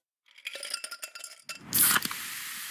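Pepsi Zero Sugar cola being opened and poured: a burst of clinking and tapping gives way to a bright fizzing pour that hisses on steadily, close and fairly quiet.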